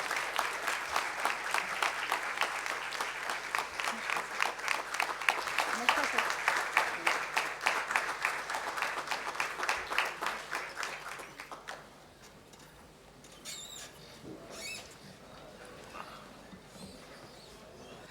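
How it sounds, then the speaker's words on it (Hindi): Sustained audience applause fills a Lok Sabha Speaker's Hindi Pakhwada 2022 prize ceremony hall, dense rhythmic clapping for about twelve seconds before fading into quieter room sound and scattered claps. "तालियों की गड़गड़ाहट बताएगी कि बाद में कितनी बजेंगी।"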